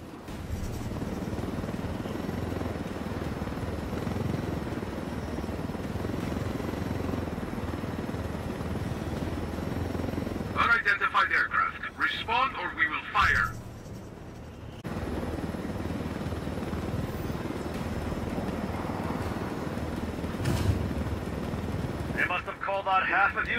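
Helicopter flying in the video game Ghost Recon Wildlands, a steady loud rotor and engine roar that continues throughout, with brief bursts of other in-game noise partway through.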